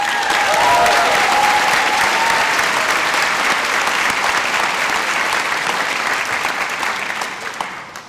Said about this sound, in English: Let's also give them a big round of applause.